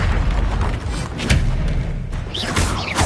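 Blasting spell explosions in the Hogwarts Legacy video game, deep booming thuds amid loud, dense combat noise, with sharp magical zaps and whooshes layered on top throughout.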